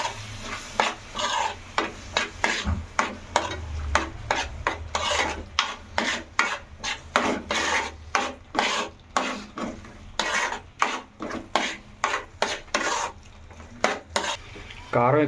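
A spoon scrapes and stirs prawn curry with chili powder, turmeric and garam masala as it fries in a pan, making steady, close, rhythmic scraping strokes about twice a second over a soft sizzle.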